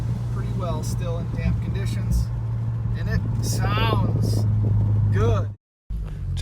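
A tuned Infiniti Q50 cruises on a damp road, a steady engine drone with tire hiss underneath and brief revs, while someone talks over it; a short dropout near the end.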